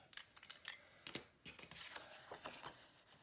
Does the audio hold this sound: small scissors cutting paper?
yes